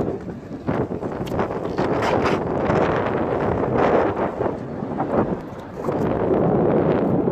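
Strong, roaring gusts of wind from a tornado at a marina in Marmaris, Turkey, buffet the microphone continuously, with rushing and rattling noise and no speech.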